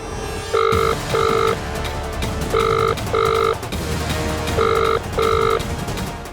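A telephone rings in paired electronic bursts, repeating three times over a steady background hum, with no talking.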